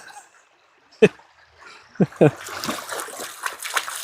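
A dog splashing in shallow creek water: a few distinct splashes, then steady sloshing and trickling nearby as people talk over it.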